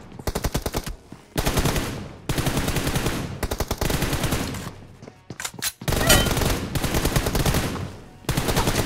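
Rapid automatic gunfire from a team deathmatch video game, long sustained bursts broken by brief pauses, loud and close throughout.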